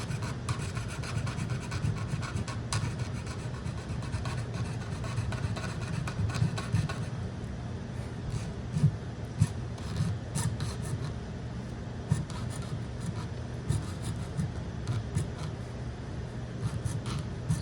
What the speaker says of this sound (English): I'm cutting through some of the red wood that I had for the log